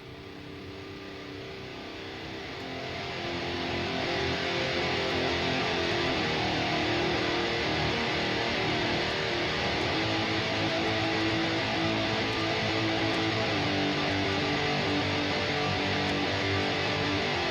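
Raw, dry electric guitar tracks recorded through a cabinet with an SM57 and an R121 microphone, playing together as a thick, distorted, continuous roar that swells in over the first few seconds and then holds loud and steady.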